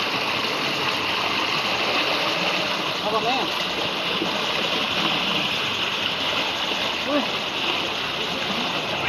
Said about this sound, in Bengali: জল ছেড়ে দিয়েছে, জলের স্পিড দেখুন কতটা স্পিডে জল যাচ্ছে